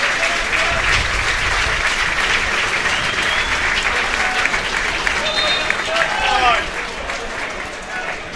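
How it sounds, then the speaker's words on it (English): Football crowd at an Ayr United versus Queens Park match applauds steadily as substituted player Logan Chalmers leaves the pitch, a broad continuous wash of clapping with faint voices mixed in that eases slightly near the end. "I think you'll hear a good round of applause for Logan Chalmers when he comes out"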